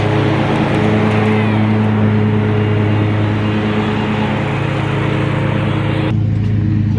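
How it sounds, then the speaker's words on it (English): A lawnmower cuts a home yard with a steady, loud engine drone that holds constant throughout and shifts slightly near the end. "That's a lawnmower."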